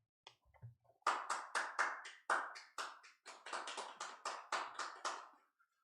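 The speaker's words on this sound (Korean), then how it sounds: "박석재 이사장님을 여러분 큰 박수로 맞아주시길 바랍니다" A small audience at a Korean history lecture claps to welcome the speaker, a sparse run of distinct, separate claps rather than a dense wash, heard close and fairly quiet.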